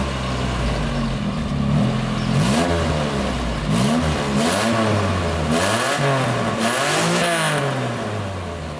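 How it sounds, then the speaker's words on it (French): A car engine fitted in a Peugeot 604 runs steadily and is revved repeatedly, its pitch climbing and falling in a series of swells over a constant, loud idle drone. "dernière fois que le moteur tourne dans la 604"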